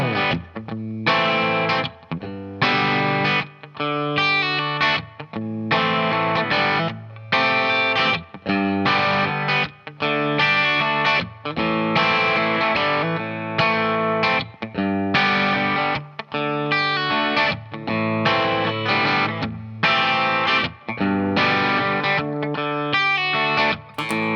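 A heavily distorted electric guitar riff plays continuously and loud, chugging in a steady groove with rhythmic stops and accents throughout.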